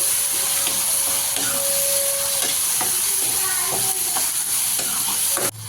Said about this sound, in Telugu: నెత్తళ్ళు వేసుకొని కలుపుకోవాలి.